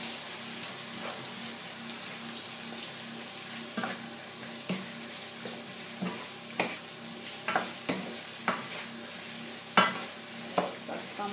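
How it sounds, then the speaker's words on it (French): A mixture seasoned with white pepper being stirred in a pot, with steady scraping strokes that grow more distinct toward the end over a soft background sizzle, close and fairly quiet with no talking. "Poivre blanc, je mélange ça bien"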